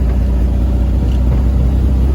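Low, steady rumble of an old VW engine idling in first gear on a test run after an electric fuel pump install, heard from close by inside the car as an even drone with no voices.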